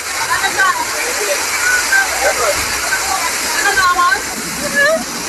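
Floodwater rushes through a street in Jamaica during heavy rain, a loud steady roaring wash with traffic stuck nearby, while someone talks excitedly over it.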